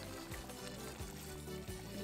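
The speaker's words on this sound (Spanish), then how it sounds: "Aquí tengo agua caliente, voy a aumentar un poquito." Quiet trickling of hot water being poured into a pot of chicken stew, soft and continuous against a faint background.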